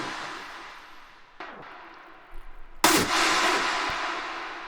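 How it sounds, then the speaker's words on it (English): A hardstyle 'Anthem' shot sample from a Nexus hardstyle pack: a swelling noisy whoosh, a sharp hit, then a loud, bright sustained burst of distorted noise that rings out to the end, with no voices. "this is a sound from good old hardstyle pack on Nexus, and it's called the Anthem"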